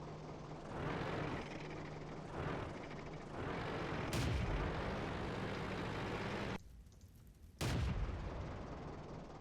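Pom-pom autocannon fire from a Vickers Medium Mk.II tank in World of Tanks, heard as loud bursts over steady engine rumble, with a sharp burst near the middle and another after a brief quiet gap.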